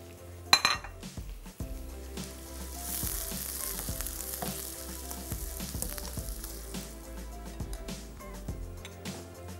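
Prawns fry over high heat in a pan where garlic has already browned. A steady loud sizzle runs throughout, with a sharp clatter near the start and light utensil clinks scattered across it. No one speaks.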